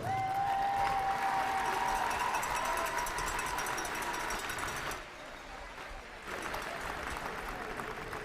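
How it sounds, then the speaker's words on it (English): A crowd at a boys AAA basketball championship gives both teams sustained loud applause, with a brief dip midway before the clapping swells again. Some voices are audible in the background. "I think these two teams deserve another big applause"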